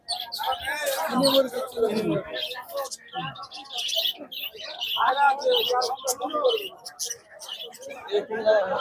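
Many birds chirp and call at a busy pigeon market at Beldanga, a dense, lively mix of tweets and coos filling the whole stretch, with people talking throughout.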